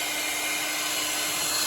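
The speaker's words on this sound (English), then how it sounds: "Can't really hear me talking on it because of the hair dryer." A hair dryer blows steadily and loudly at close range to dry paint on a pinewood derby truck, giving an unbroken, even whoosh with no pauses.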